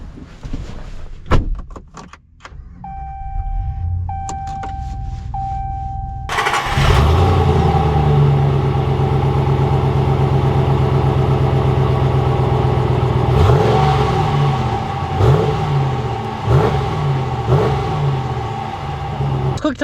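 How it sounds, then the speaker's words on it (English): A 2021 Ram 1500 Warlock pickup: a door and a few clicks, then the engine fires up loudly and settles into a steady idle before revving as it pulls away, close and prominent. "let's take this 1500 Warlock out and see how she drives"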